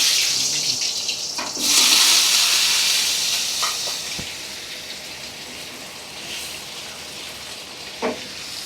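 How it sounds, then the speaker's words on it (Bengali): Potatoes dropped into hot oil sizzle with a steady, bright hiss that swells loudly at first and then settles into a softer, continuous frying crackle with a few sharp pops. "এখন আমরা গরম তেলে আলু দিয়ে দিব।"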